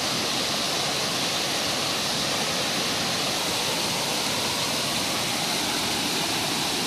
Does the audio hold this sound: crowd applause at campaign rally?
no